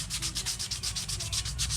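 Hand sanding a metal engine part for mirror polishing, a close, steady rhythmic rasp of strokes repeating several times a second.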